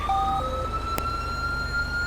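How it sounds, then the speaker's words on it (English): Ambulance siren in GTA 5 with a British police mod, a steady electronic wail with a tone shift early on and a brief sharp click near the middle, moderately loud and continuous with no talk. "Okay, here comes the ambulance."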